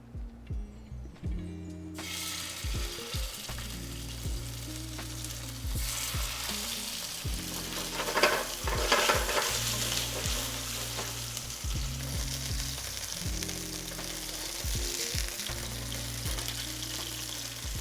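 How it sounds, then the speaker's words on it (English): Salmon fillets fry skin-side down in a saute pan over medium-high heat, giving a loud, continuous sizzle that starts abruptly and holds steady beneath background music. "when I do the salmon on this saute pan, I always do skin down first and get it really nice and crispy"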